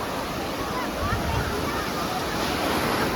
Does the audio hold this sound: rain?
no